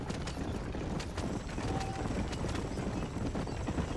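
Horses galloping in Red Dead Redemption, a steady rapid patter of hoofbeats at moderate distance, faint and continuous, with no talk over it.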